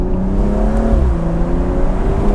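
A BMW M235i with its exhaust valves unplugged and held permanently open pulls hard on a back road, its engine note loud and close, with a rising growl and shifting tone through a short burst of acceleration.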